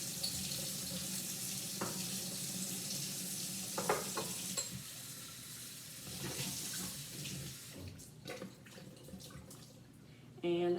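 Water running and splashing as vinegar is rinsed out of glass kombucha bottles, a steady close wash of sound with irregular clinks and knocks of the bottles, getting louder in a burst at the very end.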